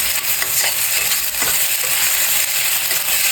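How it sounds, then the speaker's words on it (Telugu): Ginger garlic paste frying with golden browned onions in a pan for egg rice, a steady close sizzle with faint stirring scrapes throughout. "ఆనియన్ వేగిన తర్వాత 1 స్పూన్ అల్లం వెల్లుల్లి పేస్ట్ వేసి వేయించుకోవాలి."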